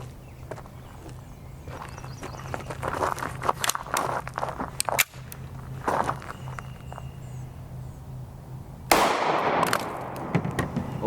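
A 5.7x28mm copper solid round fires at body armor, a sharp loud report cracking out once near the end after a stretch of quieter background clatter.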